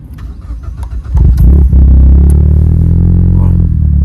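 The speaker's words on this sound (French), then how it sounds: "On reconnaît tout de suite le bruit du moteur GDI" The GDI engine of a 2018 Morgan Plus 4 in Meteor Blue Metallic cranks with a short starter whir, then catches and settles into a loud, steady idle, close by and without talk.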